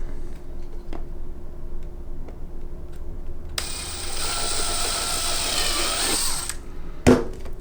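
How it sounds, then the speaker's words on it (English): A power drill bores a screw hole for a custom speaker pod in the front door of a 2013–2018 Nissan Altima, whining steadily for about three seconds after a few faint taps, then ending with a sharp knock. "now we can go ahead and continue drilling another hole"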